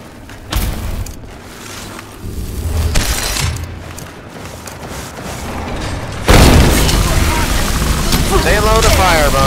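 A fire spell blast in Skyrim bursts out as a loud roaring whoosh that rises abruptly and holds to the end, following a stretch of rumbling game noise.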